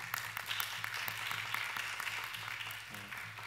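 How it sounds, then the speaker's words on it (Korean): A church youth congregation claps to welcome new members at a Friday worship service, a steady moderate round of applause over a low hum, with a faint voice near the end. "박수로 환영하겠습니다"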